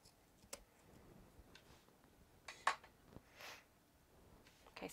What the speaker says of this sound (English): I'm not sure what my neighbor's hammering on out there in the snow.